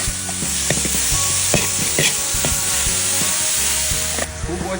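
Lean pork stir-fries in a hot wok with salt, MSG and light and dark soy sauce for Hunan chili pork, a loud continuous sizzle broken by repeated scraping and tossing strokes of the spatula, with no talk.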